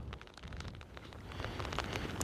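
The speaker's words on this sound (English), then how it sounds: "I really hope this wind mic's working because it's really windy and it's raining again." Rain and gusting wind outdoors on the Anglesey coast by the sea, heard in open fields during metal detecting: a steady, close hiss with scattered crackling drops and wind buffeting the microphone, growing slightly louder toward the end.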